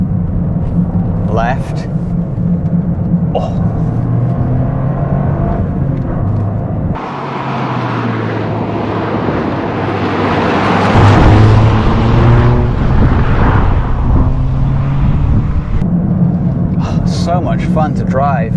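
2024 Toyota Corolla GR Circuit Edition AWD hot hatch driven hard on a winding road, its engine droning and rising toward the limiter from inside the cabin, with a brief shift dip and someone talking over it.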